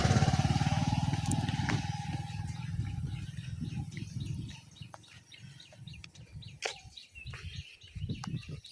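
A motorcycle engine hums steadily at first, then fades as it moves off along a village road, leaving a quieter scene with chicken clucks and scattered bird calls.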